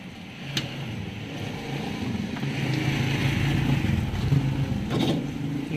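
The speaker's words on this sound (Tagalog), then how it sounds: "So namamalya pag nire-rev natin. So mga 2000 RPM, palyado na." A Barako 175 motorcycle engine revved to around 2000 RPM while misfiring, a steady close engine drone with uneven stumbles and small pops running through it for the whole stretch, with no talk.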